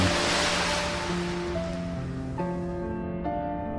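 A tank engine plunges into a deep, cold sea off a quay, and heavy waves surge and wash loudly, fading as sustained musical tones continue.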